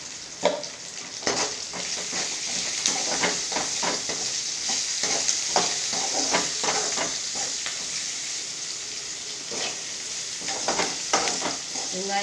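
Sliced onions sizzle steadily in a hot pan while a spoon stirs them, scraping and clattering in quick irregular strokes over a continuous frying hiss, close by and without talk, during home lunch cooking.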